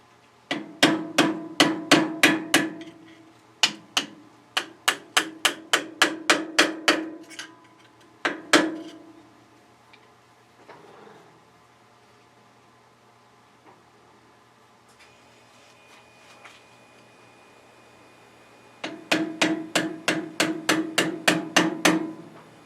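During a sawmill edger shaft and hub repair, a hammer strikes a wood chisel in quick sharp bursts of about eight to ten blows each. Four rounds of blows are separated by quieter pauses, and the strikes sound close and crisp.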